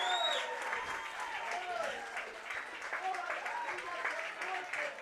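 A crowd at an American Legion baseball game applauds and cheers after a base hit to center field, steady clapping and scattered voices with a nearby person speaking over it.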